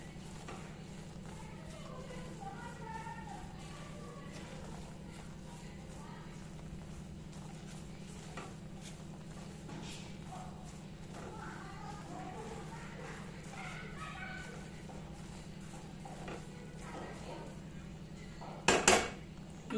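Moong dal halwa being stirred in a pan, faint repeated scraping and clinking of a spoon against metal over a low steady hum, ending in a couple of sharper knocks.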